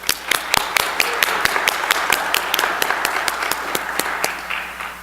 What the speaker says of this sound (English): Please join me in a round of applause for these sponsors